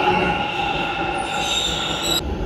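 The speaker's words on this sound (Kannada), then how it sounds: "ಮೆಟ್ರೋ ಹೋಯ್ತು, ಅವ್ರ ಡೋರ್ ಕ್ಲೋಸ್ ಆದರೆ ಓಪನ್ ಆಗಲ್ಲ" A metro train pulls away from a station platform, its steady rumble overlaid with high, sustained wheel squeal and hum, loud and close throughout with no voices.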